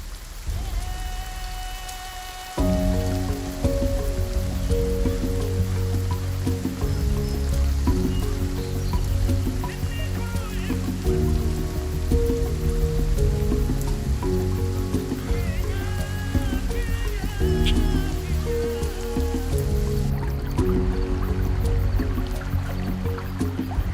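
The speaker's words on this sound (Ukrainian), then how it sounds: "Пішов дощ, сухі рівнини оживають" Steady rain falls continuously, dense and close, with scattered drips and patters over a constant wash of sound.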